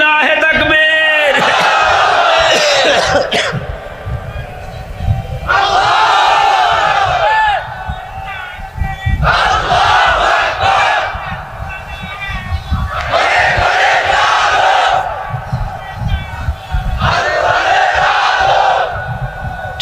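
A large crowd at a sermon roars takbir in unison, four or five loud bursts of shouting in a regular call-and-response rhythm, each lasting about two seconds between pauses.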